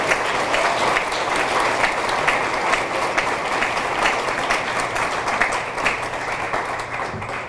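An audience at a high school athletic Hall of Fame induction ceremony applauds an inductee, the clapping thick, even and sustained for the whole stretch with only a slight easing at the end.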